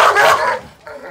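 Protection dog barking during civil agitation training, with one short harsh bark up close followed by a quieter trailing sound.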